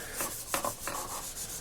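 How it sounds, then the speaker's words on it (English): Wet sanding over a coat of Krylon Fusion paint makes soft, rhythmic rubbing strokes, close and fairly quiet, with several back-and-forth passes and no speech. "So I'm going to go ahead and wet sand here"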